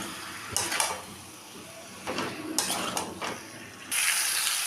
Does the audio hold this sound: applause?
no